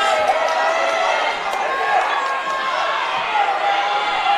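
A frontier crowd surrounding a wrestling match at a finals event makes steady murmuring noise, with a commentator talking over it throughout.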